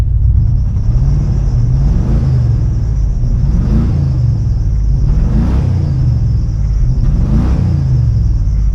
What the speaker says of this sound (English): I'm gonna rev it up so you can hear it, okay?